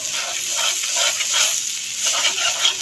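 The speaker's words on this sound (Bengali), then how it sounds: "ডিমটা আমার আরেকটু শক্ত হলে এটাকে আমি নাড়া দিয়ে স্ক্র্যাম্বল করে দিব" Eggs are stirred and scrambled in a hot pan, making a close, continuous hissing sizzle with soft, rhythmic scraping swells throughout.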